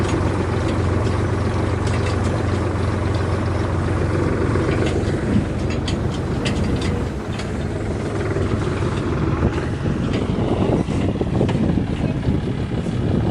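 A farm tractor spreading manure in a field runs with a steady, loud engine rumble that holds through the whole stretch, with no voices over it.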